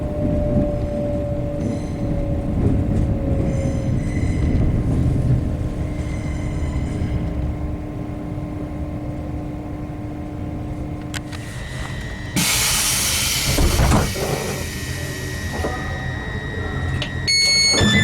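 Diesel train at York station, bound for Leeds: a steady low rumble and engine drone with a long tonal whine, then a louder burst of hiss and clatter toward the end, with no talking.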